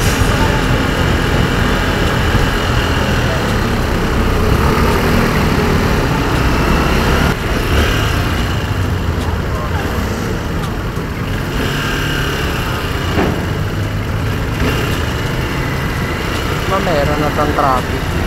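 Road traffic rumbles around a rider on a Honda PCX160 scooter, with a steady engine drone and passing vehicles throughout while someone talks over the noise.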